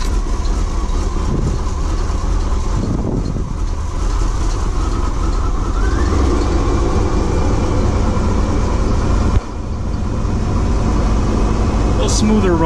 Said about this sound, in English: Smoother running,